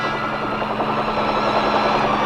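A huge Chinook helicopter flies in Vietnam, its steady rotor thrum and engine whine holding loud and continuous throughout, with no voices.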